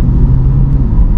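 A 2020 Chevrolet Corvette C8 Z51 cruising in normal mode with automatic shifting, its engine giving a steady, close low rumble with road noise throughout and no talking.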